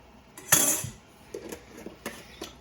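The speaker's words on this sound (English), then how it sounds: "Let's give it a stir." A spoon stirs goulash in a pot, with a sharp scraping clatter of metal against the pot followed by several lighter, spaced clinks and scrapes close by.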